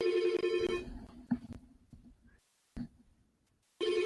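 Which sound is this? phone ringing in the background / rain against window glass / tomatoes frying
phone ringing in the background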